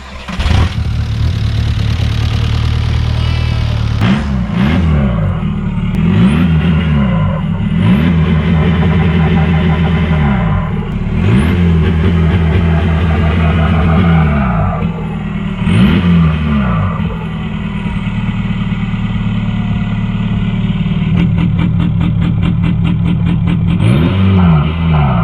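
A VW diesel car with an ALH TDI engine, just fixed after a no-start caused by a bad starter, cranks and fires up, then revs repeatedly in rising and falling swells before settling to a steady idle, loud and close.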